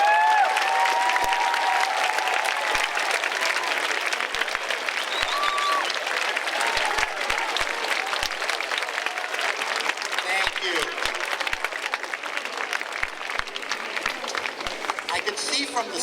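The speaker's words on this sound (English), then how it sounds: "let's give them a round of applause" A school audience gives teachers, principals and support staff a long, loud round of applause, many hands clapping densely and steadily for over a quarter minute, with a few brief voices beneath it.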